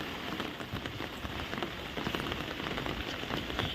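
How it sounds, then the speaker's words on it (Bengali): Heavy rain pours down in a steady, dense patter on surfaces nearby, with no voices and no letup across the clip, the hiss swelling slightly toward the end. "আবার জোরে বৃষ্টি এলো"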